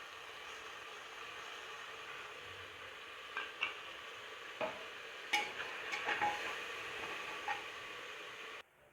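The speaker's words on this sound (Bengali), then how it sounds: "আদা রসুনের পেস্ট দিয়ে আমার কষানো হয়ে গেছে।" Onions being sautéed with a ginger, garlic and green chili paste for restaurant-style mutton kosha, giving a steady soft sizzle with occasional spatula scrapes and clinks, fairly quiet and alone.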